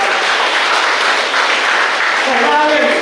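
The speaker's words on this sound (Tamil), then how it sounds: "பலமான ஒரு கைதட்டு" An audience claps continuously through a 13th-year celebration gathering at Sarvalayam in Vellakovil, a steady, loud wash of hands with voices faintly mixed in.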